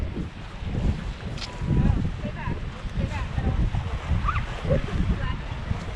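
Wind buffets the microphone in gusts, low and rumbling, with faint choppy water of Chesapeake Bay in the background and no clear talking.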